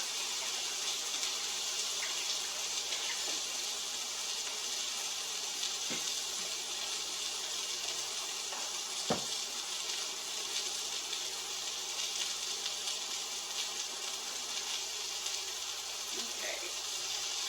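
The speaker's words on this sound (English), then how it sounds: "I'm going to give it a quick rinse to my hand." Tap water runs steadily into a kitchen sink as a hand is rinsed under it, giving a continuous close hiss of flowing water with a few faint clinks and splashes, with no talk.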